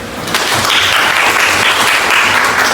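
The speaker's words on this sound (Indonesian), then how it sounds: "Tepuk tangan." A class of students breaks into loud, steady applause, many hands clapping close by in a dense, continuous patter after a brief quieter start.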